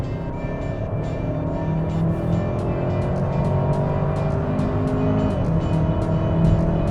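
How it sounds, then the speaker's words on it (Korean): A new full-change Hyundai Santa Fe family SUV under full-throttle acceleration, its engine and road noise loud and steady from start to finish, with no talking. "여기 풀악셀 밟았습니다"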